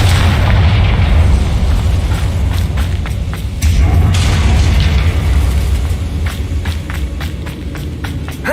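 Repeated booming blasts from the Confringo spell in Hogwarts Legacy, heavy low thuds over a dense, continuous roar with sharp bursts scattered throughout, loud and close, no talking.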